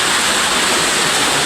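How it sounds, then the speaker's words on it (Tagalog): Water rushing at Uwan-uwanan waterfall, a loud, steady hiss and roar of falling water that holds constant throughout with no other sound. "Tumatagas yung mga tubig oh."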